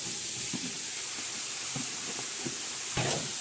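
Shrimp hitting a hot pan with squid, a steady bright sizzle and hiss throughout, close, with a sharper burst of spitting near the end.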